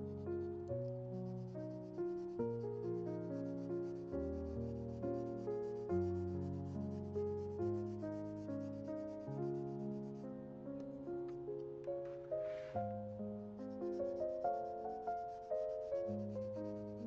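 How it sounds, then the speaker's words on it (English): Sandpaper is rubbed over a leather front panel for a tablet case, giving rhythmic scratchy strokes repeated steadily under background music. "I use a sandpaper on top of the front panel, and this will help for gluing them better."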